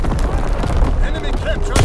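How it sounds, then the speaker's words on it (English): Artillery fire in the Call of Duty WWII game, dense rumbling booms and crackling blasts rolling continuously at close range, with a sharper burst near the end and game radio voices mixed in. "Artillery ready for orders, awaiting coordinates. Firing battery one."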